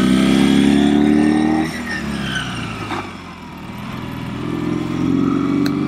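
A Ural two-wheel-drive sidecar motorcycle rides along a road, its engine droning loud and close with revs rising and falling as gears shift, fading briefly mid-stretch before building again.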